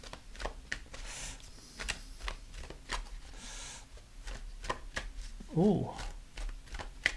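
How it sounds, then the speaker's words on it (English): A deck of cards is shuffled in a string of quick, crisp riffles and taps. A brief spoken exclamation comes near the end. "Should I just know when to stop shuffling?"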